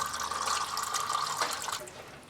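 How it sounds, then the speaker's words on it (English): Gearbox fluid draining from a Chevrolet Cruze during a fluid change, splashing and dripping into a catch pan in a steady, close, continuous liquid patter with no talking. "We can already start to see the fluid is coming out. So it's a pretty messy drip out."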